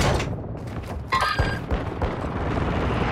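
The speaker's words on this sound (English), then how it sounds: "Friendly mortar strike inbound" Mortar strike explosions in Call of Duty: Modern Warfare, a dense battlefield rumble with booming impacts and a sharp burst near the middle, loud and continuous throughout.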